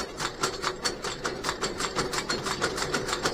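A 1960s fiber mill machine runs at increased speed, giving a fast, steady rhythmic clatter of regular mechanical beats, moderately loud and close, with no talk over it.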